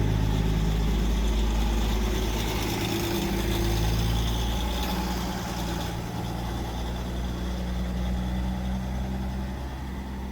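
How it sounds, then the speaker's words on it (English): A Pikes Peak cog railway locomotive idles with a low, steady diesel rumble while pushing its passenger cars into the shed, the engine hum holding constant and close with a slight dip partway through. "they started pushing the cars and locomotive into the shed"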